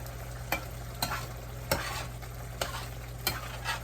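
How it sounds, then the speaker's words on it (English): Turkey wings simmer and sizzle in pan juices, a steady bubbling hiss with several sharp scraping knocks from stirring spaced through the few seconds, with a low constant hum underneath. "I'm going to let it simmer there"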